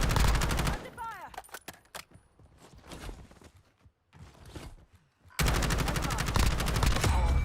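Automatic gunfire in the Warzone video game, likely from an MP 40 or Merrick 556 loadout, with loud sustained bursts opening and closing the stretch and scattered quieter shots and movement sounds in between.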